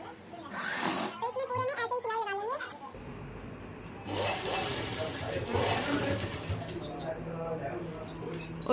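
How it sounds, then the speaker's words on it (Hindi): Sewing machine stitching along the edge of a shirt collar: a rapid mechanical whirring run that starts partway through and continues steadily, close by, with a voice talking over parts of it. "इस तरह से अंदर की साइड दबाते हुए यहाँ किनारी पर सिलाई लगा"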